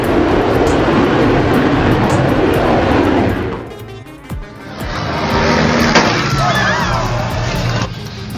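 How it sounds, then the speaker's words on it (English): An F-22 Raptor jet roars past in a loud, broadband rush that dips sharply midway before a second wave of engine noise swells and holds to the end. "The F-22 Raptor slices through the sky with fierce power, putting on an epic show."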